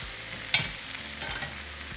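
Chorizo, chipotle chiles and potatoes stirred in a frying pan, a steady sizzle of frying under a few sharp scrapes and clacks of the utensil against the pan.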